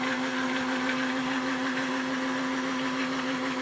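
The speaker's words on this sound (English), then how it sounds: "with the vacuum blender, it's kind of cool. You get to hear the sound" A vacuum blender runs with a steady, even motor whine and whirring hum, heard at moderate level without interruption and without voices.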